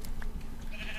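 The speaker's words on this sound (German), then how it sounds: "Ja, hier sind Schafe." A brief sheep bleat in the Minecraft video game rises once over a steady background hum, short and fairly quiet.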